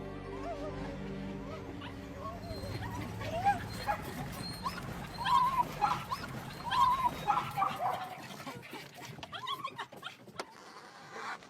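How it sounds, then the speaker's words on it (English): Small ratting dogs at work hunting rats around a chicken farm, whining, yipping and whimpering with excitement, sometimes loud and close, while engine-like hums and mechanical sounds run underneath. "The excitement of watching the little dogs work."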